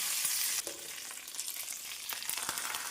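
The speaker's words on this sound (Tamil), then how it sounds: "கடுகு உளுந்து சேர்த்து விடலாம் ஜீரகம் சேர்த்து விடலாம் காய்ந்த மிளகாய் கருவேப்பிலை சேர்த்து விடலாம் நன்றாக பொரியவும்" Mustard seeds, urad dal, cumin, dried red chilies and curry leaves fry in hot oil for a tempering, a bright close hiss that flares loudly at first and then settles into a steady crackling sizzle with a few small pops.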